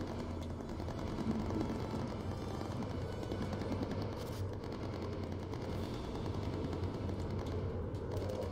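Tail gunner's machine gun in the bomber game Bomber Crew: a dense, continuous rattle of rapid fire over a droning engine rumble, steady throughout and moderately loud.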